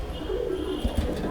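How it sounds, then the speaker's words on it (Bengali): Domestic fancy pigeons cooing near at hand in a loft, a soft low throaty murmur with a couple of brief pulses over steady background noise. "সুন্দর পায়রা"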